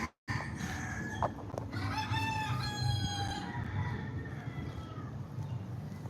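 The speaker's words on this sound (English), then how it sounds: "If I had to listen to those roosters all day, I would have a big pot of chicken stew." Several roosters crow in the background, one long drawn-out cock-a-doodle-doo rising and trailing off at moderate distance, over low ambient rumble.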